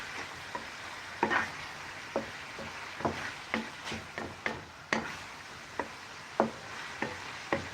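Ground meat seasoned with a little paprika fries in a pan for pasta, a steady low sizzle broken by repeated sharp scrapes and taps of a utensil stirring, with no talk.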